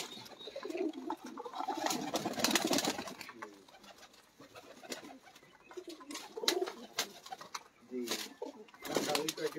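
Pigeons cooing in a loft kept by a Punjabi pigeon fancier, soft repeated throaty coos rising and falling close by, mixed with people talking and scattered handling noises.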